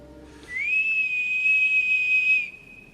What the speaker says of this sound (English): a nasty whistle swept across the yard, interrupting me